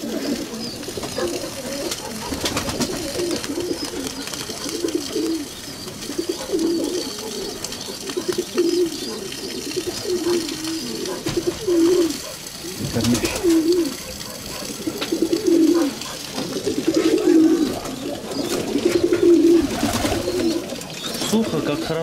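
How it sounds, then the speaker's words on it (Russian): Pigeons coo in repeated low, throaty calls close by, while people talk over them against a background of rustling and a faint trickle of water. "Это у тебя голубь?"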